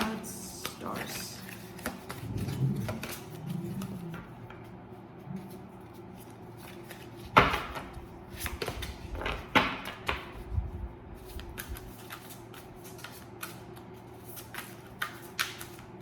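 Tarot cards handled and shuffled by hand, soft papery riffles and brushes with a few sharper taps and slaps, close and quiet, with faint room sound in the pauses.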